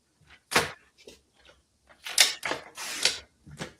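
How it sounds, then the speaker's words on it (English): Paper trimmer slicing cardstock while making a 3-flap fun fold card: a few separate close, crisp cutting and sliding strokes in bursts, with quiet pauses between them. "So you're going to see me cut the whole thing now."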